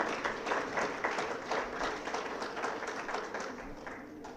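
A seated audience at an education board's annual retreat claps for the finance team, with a moderate, fairly even patter of hands that fades slightly toward the end, and a few voices underneath.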